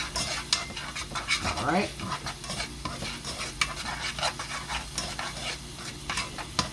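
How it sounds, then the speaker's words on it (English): Minced garlic sizzling in hot oil in a pan on a high stove while being stirred, steady frying hiss with scraping utensil strokes, and a voice speaks briefly. "let the garlic, minced garlic cook all the way down"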